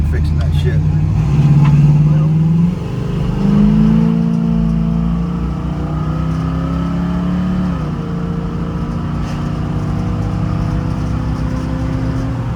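A 1968 Pontiac Firebird convertible with a broken muffler idles loud and close in a rough, throaty rumble, with a couple of brief revs early on and a steady drone after that.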